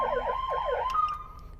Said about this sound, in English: I'm getting basically 3 siren tones out the front of this vehicle